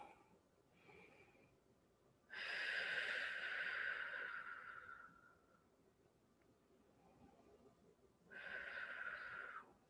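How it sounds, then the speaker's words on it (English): Two drawn breaths during a guided breathing exercise, a long steady exhale-like rush followed later by a shorter one, soft and close against a quiet room. "Take a few breaths here."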